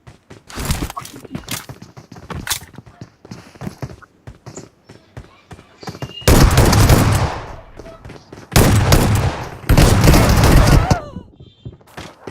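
Gunfire in a video game, starting with scattered single shots and short bursts, then two long loud sustained bursts of rapid automatic fire, close and harsh, with some talking mixed in.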